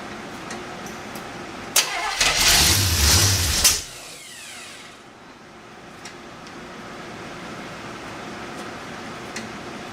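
A Chevrolet 283 V8 cranks and fires into a brief loud burst of running for about two seconds, then cuts out, leaving faint background noise.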